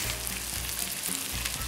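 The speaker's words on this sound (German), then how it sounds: "Dafür nehmen wir 20 Gramm Butter und geben die in den Topf hier." Butter and thyme leaves sizzling in a pot as beans cook, a continuous, dense frying crackle, close and fairly loud, with no talking.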